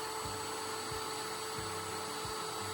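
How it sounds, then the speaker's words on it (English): A vacuum cleaner drones steadily and fairly faintly while sucking ash out of an outdoor wood boiler, with a few soft low thumps as the nozzle knocks around inside. "Let's get that vacuumed out."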